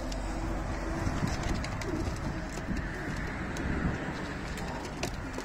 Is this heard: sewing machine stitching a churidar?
no